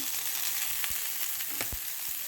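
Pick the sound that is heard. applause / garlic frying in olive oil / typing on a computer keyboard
garlic frying in olive oil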